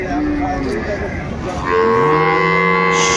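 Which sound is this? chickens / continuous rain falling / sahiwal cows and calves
sahiwal cows and calves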